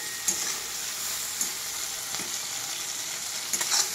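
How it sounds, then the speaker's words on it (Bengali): Crab frying lightly in a pan for crab chorchhori, a steady close sizzle with a few sharper crackles and pops, no talking. "এটা খুব ভালোভাবে হালকা করে ভাজবো কাঁকড়াটা ভাজা হয়ে গেছে"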